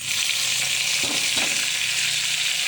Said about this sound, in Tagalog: Oh, nagba-brown na ang bawang natin. So, ilagay na natin lahat. Ilagay natin tong luya at kamatis.